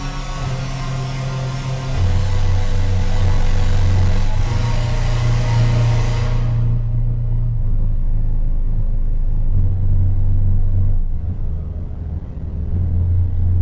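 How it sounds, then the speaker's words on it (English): A deep, sustained synth drone swells into a huge reverberant wash, its bright top fading away to leave a dark, rumbling tail. "Let's hear how big this reverb can get."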